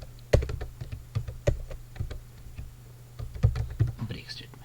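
Computer keyboard keys clack in quick irregular bursts while code is typed, close and moderately loud, with soft murmuring in the background.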